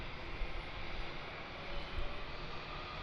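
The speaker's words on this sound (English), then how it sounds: "So Jetstar flight pushed back from international" A Jetstar airliner pushing back at Melbourne Airport bound for Singapore, a steady broadband engine roar and rumble, fairly loud and unchanging, with no voices.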